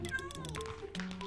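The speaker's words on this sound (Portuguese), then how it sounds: "Miei, já deu um miado." A cat in the Minecraft game Block Hunt meows several times in quick succession, close and clear, with rising and falling tones.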